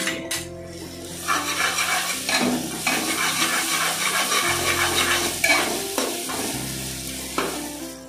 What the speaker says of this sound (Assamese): মই আদা নহৰু জলকীয়া সকলোখিনি একেলগে পিছি ললো এইখিনি মই গোটেইখিনি ইয়াত দি দিম